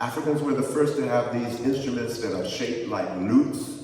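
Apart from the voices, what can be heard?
None of the usual background noises is heard.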